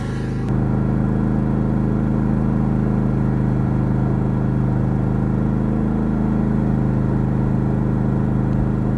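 A portable generator runs under load inside a noise reduction box, giving a steady, low droning hum that starts about half a second in and holds constant to the end.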